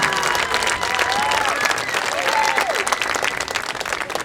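A crowd at a marching band parent event claps loudly. The applause is dense and continuous, with a few whistles rising over it and a faint murmur of voices.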